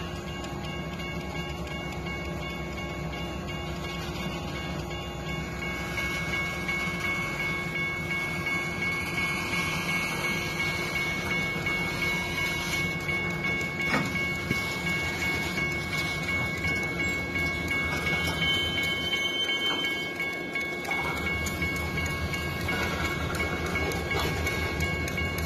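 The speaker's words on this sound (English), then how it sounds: "The train reversing." An LSRC hopper freight train reverses into a spur at a railroad crossing with a continuous heavy rumble, wheel squeal and clanking cars that build to a loud steady roll and stay close throughout.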